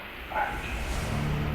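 A single muffled dog bark or yip from behind a door, dull and distant as if through a barrier, followed by low rumbling noise.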